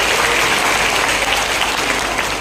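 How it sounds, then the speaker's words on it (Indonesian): An audience at a sharing gathering of participants breaks into dense, continuous applause, loud and close, with no talking over it. "Tepuk tangan untuk Anda."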